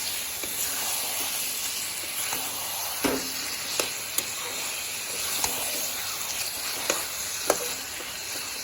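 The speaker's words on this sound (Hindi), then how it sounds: "ये देख लो नया चिकन तो मसाला भून गया, उसमें चिकन डाल दिया इधर" Chicken pieces frying in roasted masala in a home kitchen, a steady close sizzle with occasional stirring scrapes and clicks, no talking.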